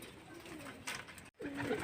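Pigeons coo softly nearby, low throaty calls against a quiet background with a brief rustle and a short dropout.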